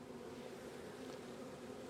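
Honeybees hum in a steady, faint, continuous buzz during an open hive check, with no talk.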